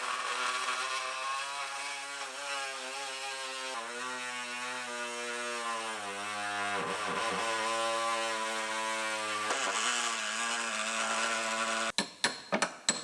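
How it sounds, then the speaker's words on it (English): A power saw cuts through the dog leg body panel of a Lexus RX330 with a steady, droning metallic whine that wavers in pitch for several seconds, then stops and gives way to a few sharp knocks. "Use a saw on this end."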